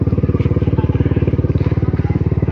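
A motorcycle engine runs close by with a steady, rapid pulsing beat and a loud, even drone that holds throughout, no talking over it.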